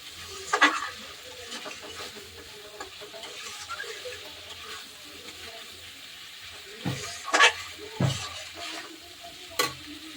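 Spice paste sizzles steadily in a pan for a curry of katla fish with potato and cauliflower, broken by a few louder scraping stirs of a spoon, close and clear with no talking.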